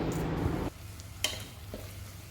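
Ginger garlic paste and coriander leaves sautéing in a pan: a short burst of close sizzling that quickly fades, followed by a couple of light stirring clicks against the pan in near quiet.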